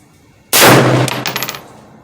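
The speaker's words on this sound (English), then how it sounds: "let's see how this Mini 14 does. And I'm going to be shooting at a gong at 100 yards" A Ruger Mini 14 rifle fires one sharp, loud shot at a steel gong 100 yards away, followed by a bright metallic clang that rings and pulses before fading out.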